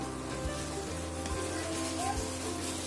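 A vegetable palak biryani masala sizzles steadily in a pan as cooked green peas are stirred through it, a continuous soft crackle with faint utensil movement and no clear talking.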